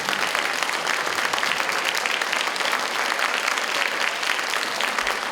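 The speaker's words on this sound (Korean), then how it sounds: "조국 대표님께 다시 한번 감사의 박수 부탁드립니다." Sustained audience applause fills a university lecture hall after a talk-show Q&A at Mokpo National University, a dense, steady wash of many hands clapping at even loudness throughout.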